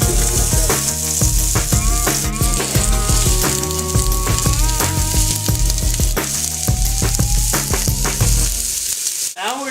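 Vegetables sweating in olive oil in a pan for a pasta dish, a close, dense crackling sizzle with soft stirring, overlaid by steady background music with no talk.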